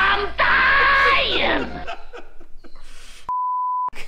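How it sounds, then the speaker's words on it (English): A steady censor bleep tone lasting under a second cuts over a spoken word, following a stretch of laughter and loud talk in a workshop while discussing rust repairs on a short-wheelbase 4x4. "You're going to have to beep that out."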